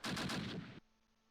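Gunfire in the World War II strategy game Close Combat, a loud burst of several rapid shots about a second long that cuts off abruptly, with no voices.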